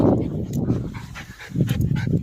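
A dog at a beach, breathing in steady rapid pants close by, with some rustling and movement over continuous outdoor background sound.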